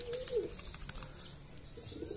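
White pigeon landing on a rooftop at night, giving a few soft coos and chirps with a brief wing flutter, fairly faint against quiet background noise.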